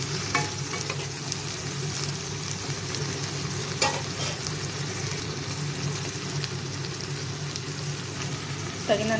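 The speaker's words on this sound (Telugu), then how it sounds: "ఇప్పుడు కట్ చేసుకున్న టమాటాలు వేసుకొని బాగా కలుపుకోవాలి" Chopped tomatoes stirred into browned frying onions in a pan for masala paneer, giving a steady close sizzle with scraping stir strokes throughout and a few louder clatters of the spoon.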